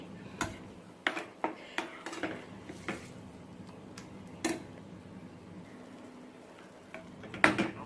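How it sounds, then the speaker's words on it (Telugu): Bottle gourd chutney stirred in a tempering pan, a spoon tapping and scraping against the metal in irregular clinks, some sharp and close, with quieter stretches between. "ఆ తాలింపులో ఒక టూ మినిట్స్ పాటు ఈ చట్నీని ఇలా కలుపుతూ ఇలా కలుపుతూ మగ్గనివ్వండి"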